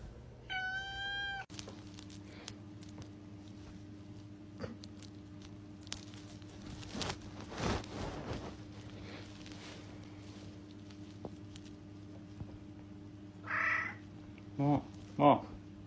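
A house cat meows several times, a quick run of cries at the start and a few short mews near the end, over a steady low electrical hum with people talking faintly in the room.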